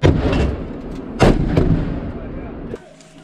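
Several weapons fire in a multi-weapon live-fire combat exercise: loud, sharp reports and booms, with one heavy blast in the middle and further shots after it, echoing outdoors before the sound falls away.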